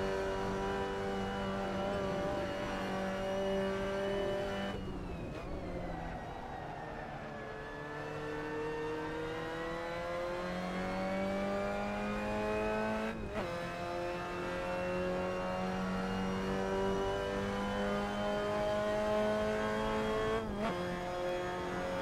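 Mazda MX-5 Cup race car in Assetto Corsa, engine note climbing steadily through the revs with sharp gear shifts at intervals, steady and close throughout, no voices over it.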